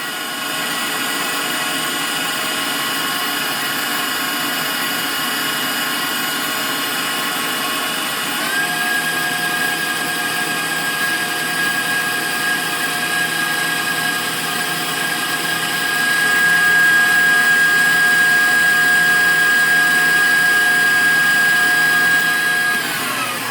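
An electric mixer whirs steadily on high speed while beating meringue for Swiss meringue buttercream, a constant motor drone throughout that lifts slightly in pitch and grows a little louder in the later seconds.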